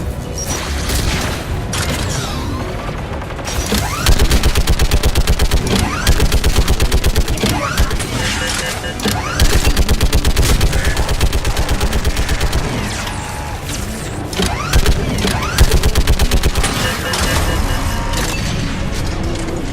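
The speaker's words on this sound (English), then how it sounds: "Should hop in that turret, Shepard." Rapid sustained turret gunfire in the Mass Effect 3 video game, loud and dense bursts with mechanical clatter and booms running through the whole stretch, no talk.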